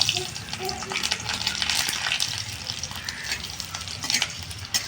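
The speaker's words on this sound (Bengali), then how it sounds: "এবার রসুন কটা ভেজে নেবো।" Garlic frying in a pan with dried chillies for a green bean mash, a steady close sizzle broken by scraping stir strokes and light clinks throughout.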